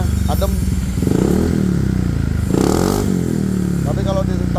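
Motorcycle with an SKR racing-style standard exhaust revving up hard, loud and close, with a rising then falling engine note and someone talking briefly over the sound.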